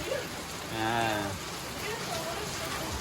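Heavy rain drums steadily on a house roof in a provincial home, a dense, continuous patter, while a voice briefly speaks over it.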